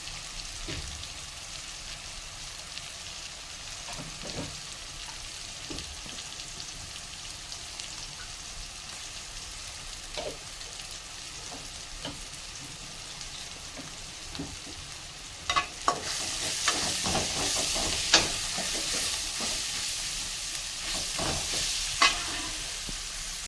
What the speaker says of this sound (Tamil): இஞ்சி பூண்டு பேஸ்ட் போட்டு நல்லா வணக்குறேன்